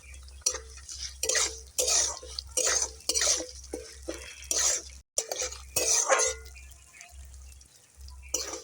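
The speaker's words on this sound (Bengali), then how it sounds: "অল্প ভেজে নেব, ডালটা অল্প ভেজে নেব।" Moong dal is lightly fried and stirred in a pan, a utensil scraping and clattering in rhythmic strokes over a low steady hum, with a brief pause midway before the stirring resumes.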